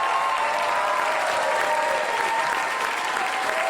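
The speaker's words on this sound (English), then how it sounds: "Give it up for Jamie Lissow, Zainab Johnson, John Huck, and Mike Yard." A live audience at Gotham Comedy Club gives steady, dense applause that holds at an even level throughout, with a faint murmur of crowd noise beneath the clapping.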